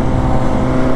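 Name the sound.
Honda CBR 600 motorcycle engine on a test ride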